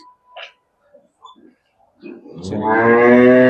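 An HF crossbred dairy cow gives a loud, close, drawn-out moo on a dairy farm. Faint scattered clicks and shuffling come before it.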